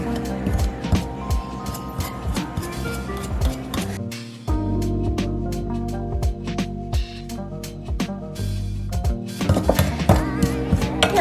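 Busy metallic scraping and clinking as two knives cut butter into flour for biscuit dough, rhythmic strokes continuing throughout, close and fairly loud.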